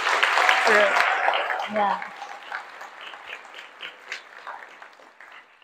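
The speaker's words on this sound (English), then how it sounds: "Let's give Tori a round of applause." Audience applause at an environmental symposium on riparian restoration, honoring the event coordinator: a steady wash of clapping that follows brief speech at the start, then slowly thins and fades.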